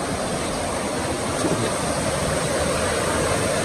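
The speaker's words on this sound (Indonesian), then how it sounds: "Di bawah ada sungai yang memang deras banget tuh." A fast-flowing river rushes far below, a dense, steady roar of churning water with no pauses and no voices.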